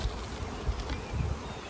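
Honeybees buzz around a hive, a continuous close swarm drone with a few louder passes near the microphone.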